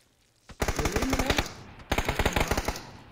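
Two bursts of rapid automatic gunfire from PUBG: Battlegrounds, loud and close, each burst a fast string of sharp cracks separated by a short pause.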